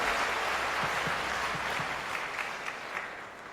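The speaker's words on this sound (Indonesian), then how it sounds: "Tepuk tangan dong buat Romo Giri kita ya." An audience applauds for Romo Giri at a Q&A session, a dense, steady wash of clapping that stays fairly loud, then eases slightly toward the end.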